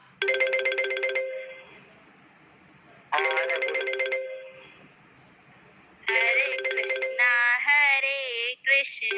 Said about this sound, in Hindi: मेरे को फोन भी आ रहा है